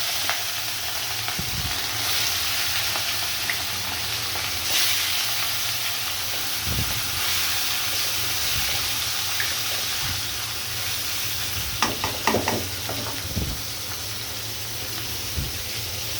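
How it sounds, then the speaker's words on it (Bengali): Pieces of catla fish sizzle steadily in hot oil dusted with turmeric, a dense continuous hiss with occasional soft pops and spatters, close and fairly loud with no voices. "এইভাবে আমি মাছগুলো সব ভেজে নিব"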